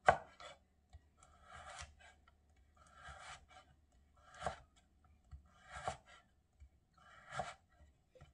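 Knife slicing carrot into thin strips on a cutting board, quiet rhythmic bursts of short chopping strokes roughly every second and a half, close and soft, no talking.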